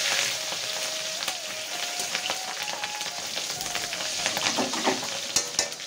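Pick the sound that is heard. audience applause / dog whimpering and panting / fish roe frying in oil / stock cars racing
fish roe frying in oil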